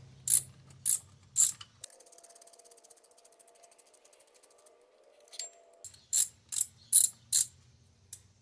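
A ratchet on a 2011 Subaru Outback 3.6R engine clicks in crisp, close bursts of strokes at the start and end, with a quieter stretch of fine mechanical ticking between them.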